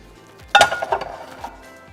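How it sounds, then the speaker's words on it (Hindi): Pots, pans and utensils clatter as a home kitchen counter is cleared: one loud metallic clang followed by a few lighter clinks and knocks, close by and without talk. "ये सब कुछ ज़रा मैं यहाँ से उठा लूँ, आज बहुत मैंने फैला दिए हैं बर्तन।"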